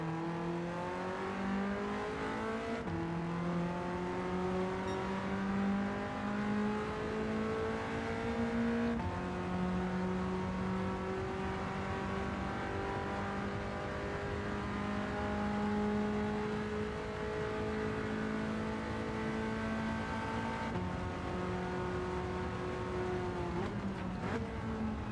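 A 1989 BMW M3 Sport Evolution races in Gran Turismo 7 at 700PP on the Le Mans course. Its engine drones loud and steady, revs climbing and dropping through repeated gear changes for the full stretch.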